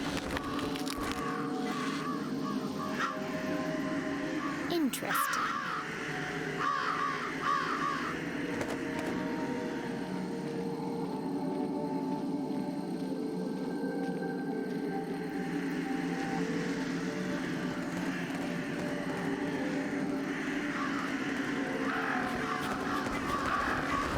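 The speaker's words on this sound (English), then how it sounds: "now we're making a bunch of crows knock over a tree" Crows caw several times in the Jenny LeClue video game, moderately loud over a continuous low ambient rumble, with a brief spoken word.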